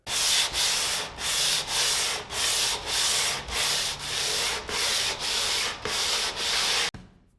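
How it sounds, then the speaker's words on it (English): Hand sanding the top coat of a nightstand with a worn 100 grit sheet, about a dozen rhythmic back-and-forth rasping strokes, close and even, ending abruptly. "I ended up using the 100 grit sheet, but it's pretty worn away now, so it's more like a 150 grit."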